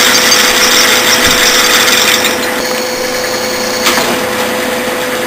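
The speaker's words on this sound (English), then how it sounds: "I am now drilling it" A loud, steady machine whine with a high metallic drone, continuous and close, softening slightly partway through: a drill press drilling metal with a 31/64-inch bit.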